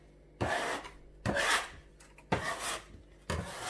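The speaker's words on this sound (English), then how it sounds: "I'm going to use a scraper. So we're going to start making it into a ball." A dough scraper rasps across a work surface, shaping sourdough into a ball in four distinct scraping strokes with short pauses between, close and fairly crisp.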